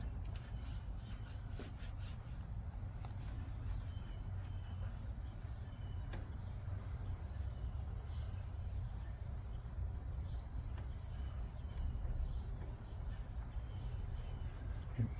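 Steady close rubbing of a cloth or polish pad over a dull aluminum pontoon boat tube, a continuous soft scuffing wash with light strokes, heard alone without talk.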